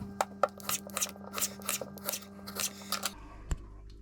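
A knife trims the edges of a potato into a square for chips, giving a quick series of crisp cutting strokes in an irregular rhythm, close and fairly soft, with a low steady hum underneath and a single sharp tap near the end.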